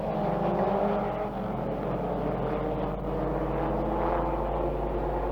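A Formula 2 Cooper leads a pack of sports racing cars around the circuit, engines droning steadily at a distance with a continuous, even roar.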